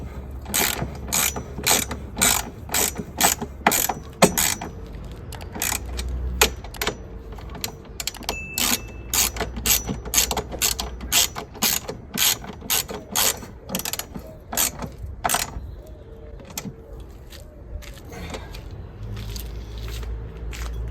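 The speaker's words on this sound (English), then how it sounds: "all I've got to do is just put this in place and tighten everything back up" Rapid ratchet clicking in repeated bursts while strut brace bolts are tightened on an R50 Mini Cooper, close and crisp with brief pauses between runs, no talking.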